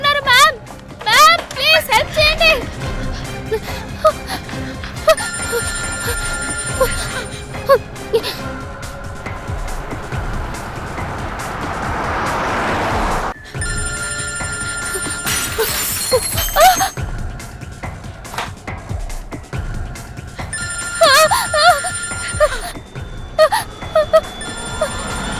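In a CID TV crime drama scene, a telephone rings repeatedly and goes unanswered, with bursts of ringing standing out against tense music, crashing effects and voices.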